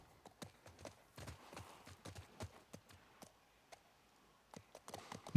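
Horse hooves clip-clopping in the video game The Last of Us Part 1, a faint, uneven series of sharp hoof knocks, clustered at first and then thinning out with short pauses.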